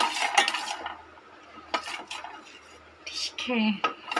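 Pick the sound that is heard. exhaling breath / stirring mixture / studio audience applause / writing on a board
stirring mixture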